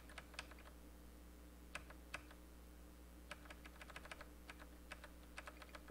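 Computer keyboard typing in scattered bursts of quick keystrokes over a steady low hum, close and fairly quiet, with no voices.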